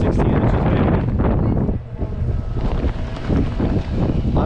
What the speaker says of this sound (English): It's blowing like 30 miles an hour with gusts of like 40